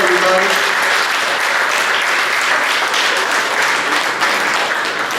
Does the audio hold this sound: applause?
yes